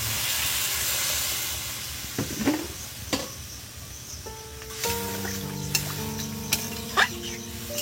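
Water poured into hot aloo dum curry in a pan sets off a loud broad sizzling hiss that settles into softer bubbling and steaming, with a few utensil knocks and tones in the background.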